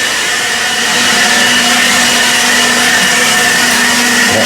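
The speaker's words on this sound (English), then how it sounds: "Then you're going to take a blower, if you have a blower." A leaf blower on its low setting clears loose sand and debris from freshly repaired paver joints outdoors, a loud continuous whooshing roar with a steady motor hum throughout, no talking.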